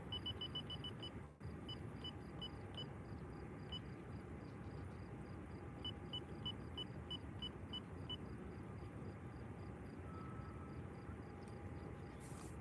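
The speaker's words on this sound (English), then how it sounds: "That beeping sound is the radio for the air traffic control." Repeating short electronic beeps from an air traffic control radio at Faro airport, a steady run of evenly spaced tones over a constant low engine-like rumble, with a brief dropout near the start.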